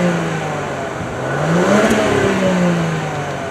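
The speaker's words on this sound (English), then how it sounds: "here is an exhaust clip" A Jaguar F-Pace R-Dynamic S exhaust revs up, heard from outside, rising to a louder peak in the middle and then easing back down, a deep throaty note with no talking.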